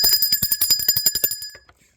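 A bright bell rings in a rapid series of about a dozen quick metallic strikes, loud and close, each leaving a ringing tone before it trails off into silence.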